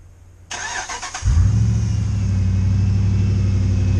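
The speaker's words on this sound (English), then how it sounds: "the moment you turn on the engine" A car engine cranks with a brief starter whir, then catches and settles into a loud, steady low idle rumble close by, while the car's LED headlights flicker.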